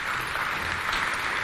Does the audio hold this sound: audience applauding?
yes